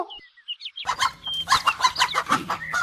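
A rooster and hen of a good breed on a farm cluck in quick, close bursts, with a few higher squawks and a short gap near the start.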